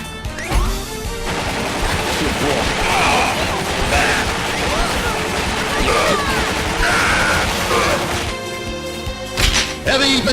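Video game machine gun fire using Metal Slug sound effects, a dense continuous stream of loud bursts and impacts lasting throughout, with crashes layered on top.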